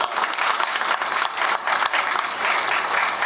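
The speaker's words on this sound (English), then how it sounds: "Give them a round of applause." Audience at a Thanksgiving Day parade sponsor press conference gives sustained, fairly close applause, a steady wash of many hands clapping with no talk over it.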